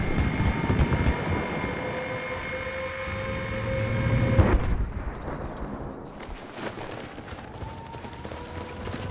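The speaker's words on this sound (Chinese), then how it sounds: "非常大的敌军飞机，我们必须要小心" Large enemy aircraft in the video game Battlefield 4 drones loudly with a steady engine hum, swelling into a heavy roar before abruptly cutting off, followed by softer game battle noise.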